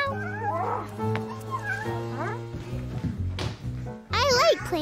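A voice imitates a cat's meow, drawn-out and wavering, during a fireworks celebration with children in animal masks; a higher, rising meow-like cry follows near the end, loud and close over other voices.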